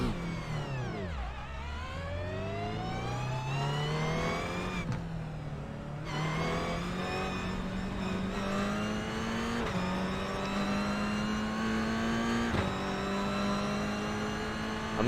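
A Toyota GR86 race car in a racing sim video game drones through long, rising gear pulls, its engine note climbing and dropping at each shift, heard continuously from onboard with no voices.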